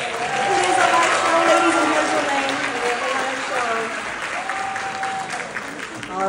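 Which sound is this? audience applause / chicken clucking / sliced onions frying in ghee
audience applause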